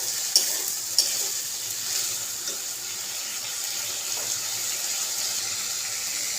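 Ginger and cumin paste frying and being stirred in a pan, giving an even close sizzle broken by two sharp utensil clicks early on, then softer stirring.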